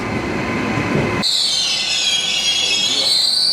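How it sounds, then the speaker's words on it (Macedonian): Loud, high-pitched squeal of poorly lubricated train brakes rising sharply after a rumbling start and holding over the rolling rail noise. "те да му се подмачкат кочници, многу му пиште"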